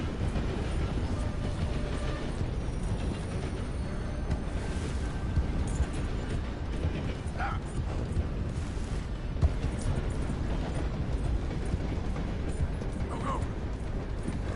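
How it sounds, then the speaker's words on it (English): A train in Red Dead Redemption 2 rolls along the rails with a continuous heavy rumble and clatter that holds steady and loud throughout. "I'll follow the train."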